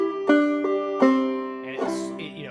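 Banjo picked with a double-thumb pattern in place of a drop thumb, a few bright plucked notes in an even rhythm, close and clear, ending with a quick rattle of strums.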